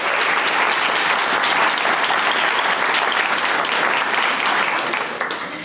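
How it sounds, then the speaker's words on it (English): Sustained applause from a large audience at a guide dog graduation ceremony, dense and steady throughout before easing slightly at the very end. "One more round of applause"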